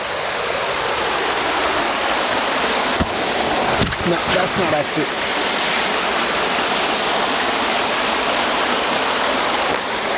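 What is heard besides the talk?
Cacao Waterfall on a farm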